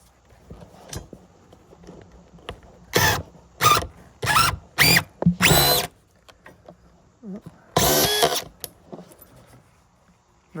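A power drill drives screws into plywood while prepping window openings, with several short loud whirring bursts in quick succession and a longer burst later, close up over a quiet room.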